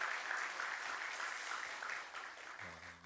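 A church congregation applauds, a steady broad patter of clapping from many hands that carries on evenly before fading slightly near the end.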